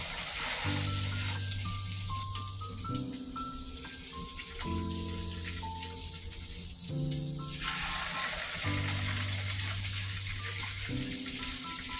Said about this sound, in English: When the oil is hot enough, you place the salmon skin side down.